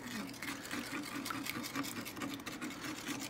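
Spoon stirring dry active yeast and sugar into warm water in a bowl, a rapid rhythmic scraping and sloshing that repeats steadily at close range and fairly quietly, with no speech.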